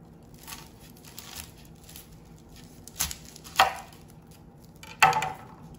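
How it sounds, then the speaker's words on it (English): A kitchen knife cuts an onion through the middle from root to stem, giving a few sharp, close crunches and thuds on a board amid quiet rustling. "We're going to cut it right through the middle from root to stem."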